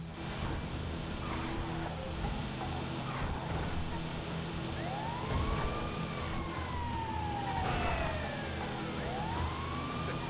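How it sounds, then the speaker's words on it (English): A siren wails in rising and falling sweeps through the GTA V game world, under steady traffic and engine rumble. It sounds moderately distant and does not stop. "You can use the sirens to make cars stop or give you the right of way."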